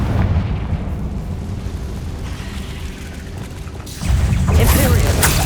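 A Confringo blasting curse erupts as a loud explosive boom in Hogwarts Legacy, following a stretch of rumbling noise and bursting sharply near the end.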